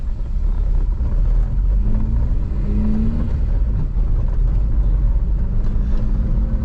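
A square-body Volkswagen Saveiro pickup with a 1.8 alcohol AP engine drives slowly past, a loud, steady low engine rumble that holds evenly throughout with no talk over it.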